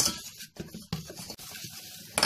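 Flour is stirred in a pot as béchamel sauce starts to cook, with soft close scraping strokes of the spoon in uneven bursts and short pauses between them.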